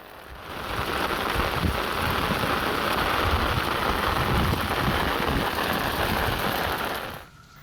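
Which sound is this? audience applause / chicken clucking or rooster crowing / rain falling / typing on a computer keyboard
rain falling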